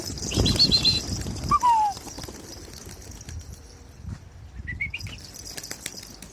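Pigeon wings flapping as the bird lands, a burst of close wingbeats at the start followed by scattered chirps and quieter rustling and flutters.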